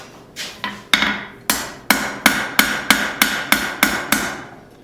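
Light hammer taps strike a fillet knife blade being forged, about a dozen sharp ringing metallic hits in a steady, quickening rhythm, close and clear with no voices.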